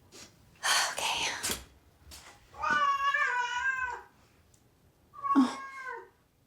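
A cat meows several times in drawn-out, wavering cries, close and fairly quiet, with breathy whispering and soft gasps between them in a short horror film.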